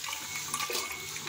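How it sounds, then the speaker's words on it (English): Coconut milk pours into a smoothie maker in a steady, close liquid splash and gurgle that lasts throughout. "I'm going to put the coconut milk in first."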